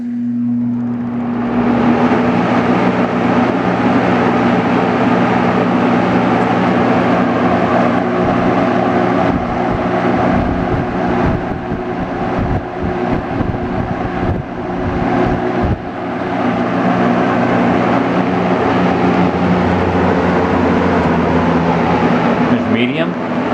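Vintage Frigid XG-20 box fan running on high speed, a loud steady whooshing roar with a constant motor hum spinning up at the start, close to the listener, with speech over it.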